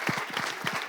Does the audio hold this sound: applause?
yes